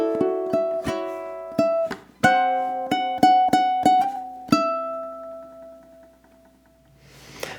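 Ukulele playing two measures of a syncopation etude, a run of bright plucked notes and strummed chords in a lively syncopated rhythm, with one note left ringing out at the end, heard alone and close.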